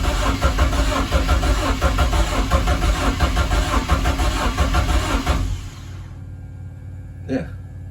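A BMW M44 engine in an E30 rally car cranks loudly and steadily for about five and a half seconds without firing, then cuts out, leaving a quiet hum and one brief squeak.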